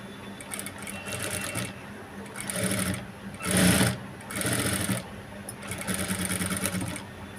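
A sewing machine with a normal presser foot stitches thread piping onto a boat neckline, running in several short close bursts of rapid mechanical whirring with brief pauses between runs.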